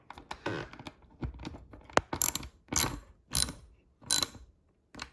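A wrench tightens bolts on an Inspire Fitness FT1 bench during assembly, giving a series of short ratcheting clicks in bursts with brief pauses, close and clear, plus a small metallic clink.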